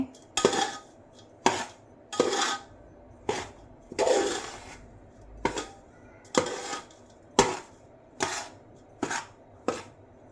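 Spoon scraping and clinking against a pan while stirring a sweet mixture of roasted coconut and peanuts off the heat, about a dozen separate strokes in a steady rhythm, close and fairly loud with no voices.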